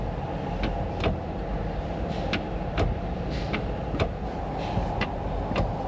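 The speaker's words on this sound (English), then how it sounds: "I can hear a shift lock." Shift lock solenoid on a 2003 Chevrolet Silverado clicking in a repeated, roughly regular rhythm, sharp light ticks over a steady low engine hum.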